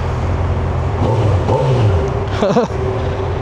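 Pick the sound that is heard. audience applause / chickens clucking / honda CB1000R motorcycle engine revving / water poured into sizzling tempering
honda CB1000R motorcycle engine revving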